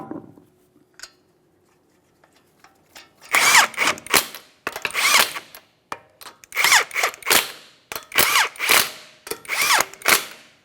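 A power tool spins lug nuts back onto a wheel of a 2010-2013 Kia Forte Koup in a loud series of sharp, rattling bursts, several separate runs with short pauses between them, after a faint quiet hum at the start.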